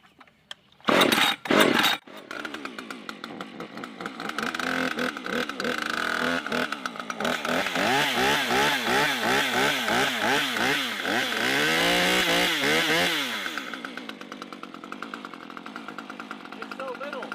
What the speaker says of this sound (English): now for the Husky Pro arborist saw here. Not sure the starting sequence.